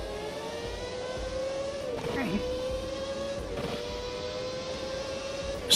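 Honda McLaren racing car engine in a sim racing game, a steady high whine holding one pitch with small throttle dips, running continuously under a voice talking over it.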